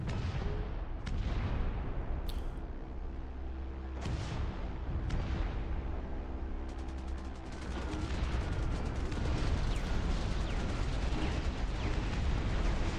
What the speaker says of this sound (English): we've got heavy bombs coming in